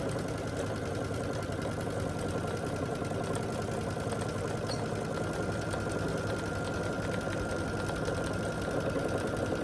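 A sewing machine stitching binding onto a quilt, a steady fast mechanical whirring hum with a fine rapid needle rattle, continuous and even throughout, no speech.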